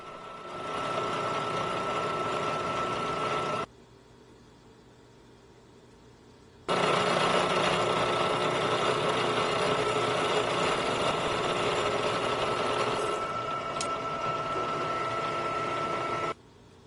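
A K&T 2HL horizontal milling machine cuts aluminum in steady, loud bursts of grinding mechanical noise, dropping to a lower running hum for a few seconds between two long cuts.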